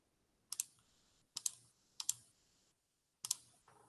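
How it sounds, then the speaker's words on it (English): Quiet, close mouse clicks tap out on a computer in a geometry area tool, four or five crisp single and double clicks separated by short silences. "we're going to click on each of them"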